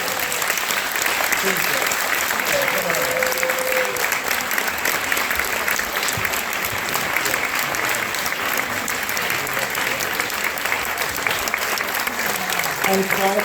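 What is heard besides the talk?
audience applauding after theatre performance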